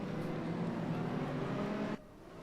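A V10 race car engine screams loud and close, a steady high-pitched roar that cuts off abruptly near the end, leaving a quieter background.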